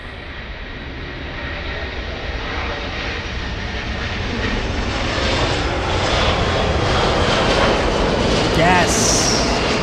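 A jet airliner landing at LAX in Los Angeles roars loud and steady throughout, its engine noise swelling slightly as it passes near, with faint voices underneath.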